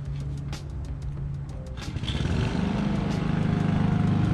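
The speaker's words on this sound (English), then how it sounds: "It's my neighbor mowing the lawn." A neighbor's lawn mower is running. It gives a steady mid-pitched engine drone that swells louder about halfway through and holds a continuous buzzing rhythm, with faint clicks early on.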